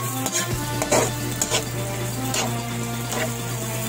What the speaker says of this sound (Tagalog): Lahat ng ricado, gisahin natin.